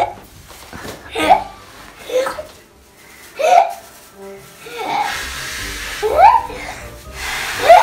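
A child hiccups repeatedly in short, sharp, voiced catches spaced irregularly across the stretch, with soft breathy sounds between them and no clear talking.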